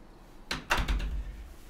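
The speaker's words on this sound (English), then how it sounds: "I'm going to stop my cat from destroying my door" A cat bangs against a door, making two or three soft, close thuds in quick succession in an otherwise quiet room.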